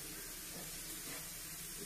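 Mushrooms sautéing in a pan, a brief, even, bright hiss of sizzling steam held steady for under two seconds, close and fairly quiet.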